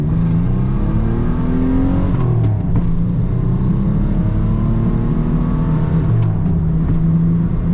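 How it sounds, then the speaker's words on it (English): A Pontiac Fiero accelerates at full throttle from a traffic light, its engine note climbing in rising sweeps through the gears, loud and close from inside the car and continuous throughout. "All right, we'll floor it here."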